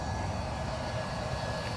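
A Yuneec Typhoon H drone's motors spin up, giving a steady, close, droning whir for about two seconds with no voices over it.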